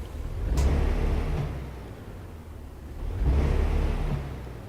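A heavy truck engine in the American Truck Simulator driving game drones with a deep, steady rumble that swells twice, like revs rising and easing, with no voices.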